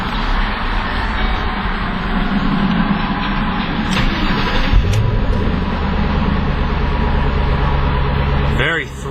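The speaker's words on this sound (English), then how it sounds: "Very throaty sounding engine" A 2010 Shelby GT500 coupe runs with a deep, throaty rumble, a steady close idle that swells briefly midway and settles back, with a few faint clicks near the end.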